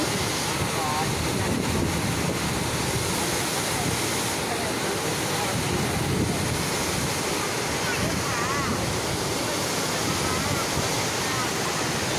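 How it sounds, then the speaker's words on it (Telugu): A heavy flow of water rushes at Lavaram dam as a continuous, loud, broadband roar that stays steady for the whole stretch, with no clear breaks. "నీళ్ళు చాలా ఎక్కువగా వస్తున్నాయి అండి."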